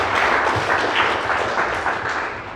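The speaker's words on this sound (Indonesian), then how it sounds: "Kasih tepuk tangan untuk Tuhan." Audience applause during a Christian church sermon, a steady wash of clapping from many people sustained for a few seconds and slowly fading toward the end.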